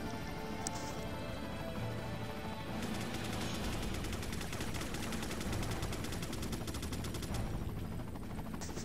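Rapid machine-gun fire in Resident Evil 4 rattles in a fast continuous burst for several seconds, preceded by scattered shots and ambient game noise, moderately loud and sustained.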